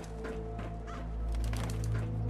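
A bird squawks in the video game Fallout 4, a harsh goose-like honking call close up over a steady low game hum, continuing through the whole short stretch.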